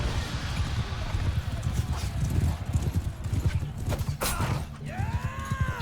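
Cavalry horses galloping across a battlefield in Mount and Blade II Bannerlord, a dense, continuous drumming of many hooves close by, with a neigh and some creaking toward the end.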